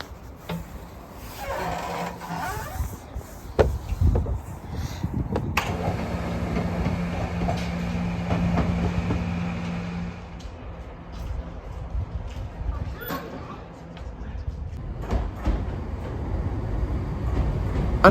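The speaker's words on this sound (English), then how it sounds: "our second train of the day along the Harrogate Line was soon pulling into the station in the form of another Northern Class 170" A Northern Class 170 diesel multiple unit pulls into a station on the Harrogate Line, a steady low rumble and wheel noise building and holding, with sharp clanks and rail clatter scattered across it and no talk.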